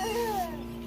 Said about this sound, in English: You can hear our baby like in the background.